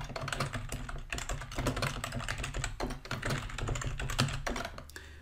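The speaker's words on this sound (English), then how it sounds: "I'm actually going to just type the names." Rapid clicking keystrokes on a computer keyboard, close and dense with short pauses between bursts, as names are typed into an Excel table.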